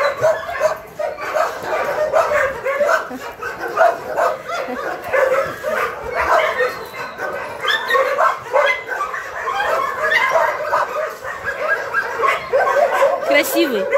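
A big friendly dog gives a few barks and yips amid an old woman's murmured, affectionate talk, the dog sounds scattered and moderately close beneath the voices.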